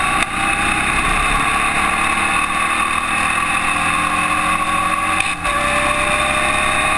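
Formula Vee race car engines drone loudly and steadily from inside the car during a 2014 NSW race, with a rival car's rising engine note passing close by near the end.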